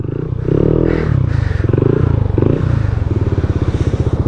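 Yamaha Aerox SP scooter engine running steadily while being ridden, a loud close droning hum with rhythmic pulsing throughout, alone with no talk.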